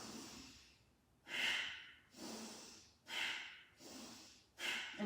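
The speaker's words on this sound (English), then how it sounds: "I'm blowing out strongly through my nose, but I'm also taking a deep, strong inhale, and it's fairly quick." Forceful yogic breathing through the nose, a quick deep inhale followed by a strong nasal exhale, repeated in five rhythmic bursts, close and clear with no talking.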